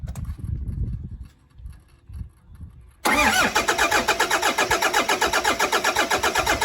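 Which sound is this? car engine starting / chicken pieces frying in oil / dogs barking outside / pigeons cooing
car engine starting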